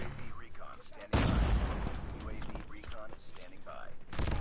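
Video game gunfire comes in bursts of sharp, loud shots, with a dense barrage partway through, while a player talks excitedly over much of it.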